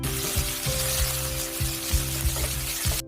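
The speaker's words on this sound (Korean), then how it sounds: "마늘색이 변하기 시작하면 당근과 양파를 넣고 강불 올려서 당근 숨이 죽을 때까지 볶아줍니다" Carrots and onions stir-fried with garlic over high heat sizzle steadily in a pan, with a regular series of soft scraping strokes from stirring every half second or so, close and fairly loud, no talking.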